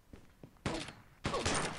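Video game gunfire bullet effects in Pixel Gun 3D: a couple of soft taps, then two dense bursts of rapid shots, moderately loud and close, with no talk.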